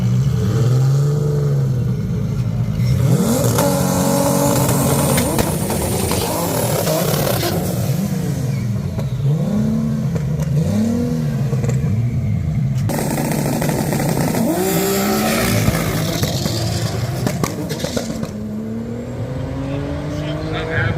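Drag race cars launch and accelerate hard at the Pacific Waterland 2024 race, loud engines rising in pitch through repeated gear changes, with an announcer's voice running beneath.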